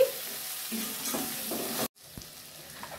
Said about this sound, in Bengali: এই যে ভালো করে আবার মিক্স করে দিচ্ছি।